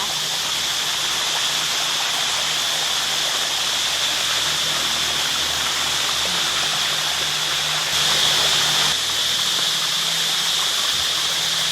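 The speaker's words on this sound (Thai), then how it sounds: "น้ำตกไซโยกน้อยค่ะ" Sai Yok Noi waterfall flows with a steady, dense rush of falling water, close and loud, continuing unbroken throughout with no voices.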